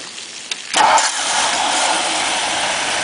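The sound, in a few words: 1957 Ford Thunderbird engine starting and idling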